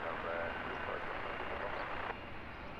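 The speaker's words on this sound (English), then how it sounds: "we have our beast freighter, the A300 of DHL, off to Milan" A DHL Airbus A300 freighter departs London Luton Airport, its jet engines a loud, steady roar that cuts off sharply near the end, with talk partly over it.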